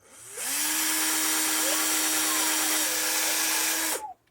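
A power drill runs steadily at low speed for about four seconds, a sustained whirring whine at fairly low pitch that starts and stops abruptly, close and loud.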